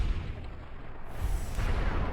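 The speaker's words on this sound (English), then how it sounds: "Explosion!" An explosion in the Fallout: New Vegas video game blows up a ghoul, giving a loud, sustained low rumble across the whole stretch with no separate sharp bang and a slight swell toward the end.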